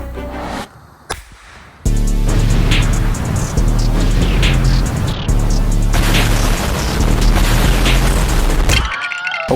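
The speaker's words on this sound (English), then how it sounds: "we're gonna use tiny explosives and see how much damage we can make" Tiny explosives blow up LEGO soldiers outdoors: after a quiet, scrappy start comes a loud, dense run of booms, bursts and pops that keeps going for several seconds, then stops abruptly.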